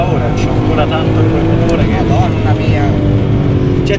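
A BMW M3 E46 engine revs hard inside the car, its loud droning tone rising and holding at high rpm with steady harmonic whine, while people talk over it.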